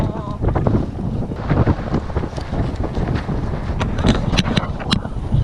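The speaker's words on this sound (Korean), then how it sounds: "바람 대박이에요" Strong wind gusts across the sand dunes at Port Stephens, a constant loud roaring buffet on the microphone that continues throughout.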